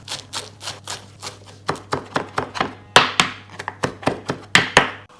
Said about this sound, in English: And I'm also going to chop up a handful of fresh coriander.